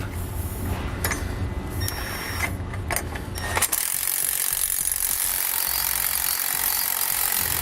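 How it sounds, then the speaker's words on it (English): A 9/16 socket ratchet tightens carriage bolts on a helper spring install for a 2017 Winnebago, with a few close, sharp clicking bursts over a low mechanical rumble before a steady broadband hiss takes over. "I'm going to come back with a 9/16 socket and I'm going to tighten up my 2 carriage bolts."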